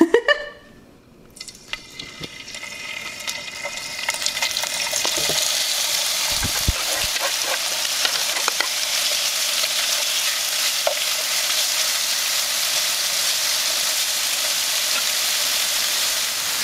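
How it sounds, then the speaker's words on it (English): Al pastor seasoned pork fries in hot oil with a steady, loud sizzle that swells after a few seconds of clatter and stays constant, close up with no talking. "Once you've coated all your al pastor with that oil and it's sizzling well"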